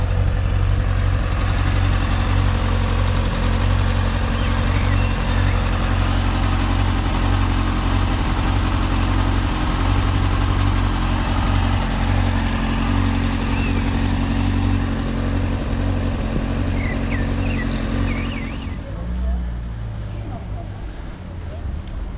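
A Honda Hornet CB 600F PC41 motorcycle idles steadily in a park, a loud continuous low engine rumble that drops off sharply near the end, with someone talking over it.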